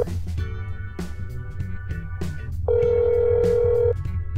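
A telephone rings during a call in the video game That's Not My Neighbor, one steady tone near the end, with a background music track of plucked notes playing throughout.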